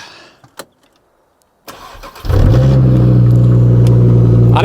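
Engine of a 3-door Audi RS3 conversion, built from a TDI, cranking and catching after a few clicks and near-silence, then settling into a loud, steady, close-up idle in a workshop.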